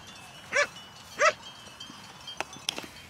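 Two short barks, probably from a dog, sound close on a rural farm track near Zakopane in wintry Poland, with a couple of fainter brief calls after them.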